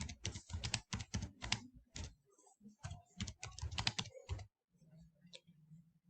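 Close, crisp keystrokes on a computer keyboard entering a command-line instruction, typed in quick bursts with short pauses, followed by a brief quieter stretch with faint low hum and no speech.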